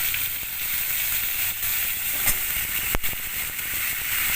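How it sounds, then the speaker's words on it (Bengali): Potatoes frying in ghee with salt in a pan, giving a steady close sizzle and hiss throughout with a couple of sharp crackling pops. "এটা একটু নুন দিয়ে দিলাম, আর একটু ঘি দিয়ে দেবো। এর মধ্যে আলুগুলো দিয়ে দিলাম"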